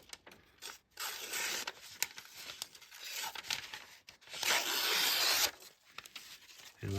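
A Kizer Towser K knife with a 154CM steel blade makes slicing cuts, heard as scraping, tearing strokes that come in separate bursts with short gaps between them, the longest one near the end, with no talking.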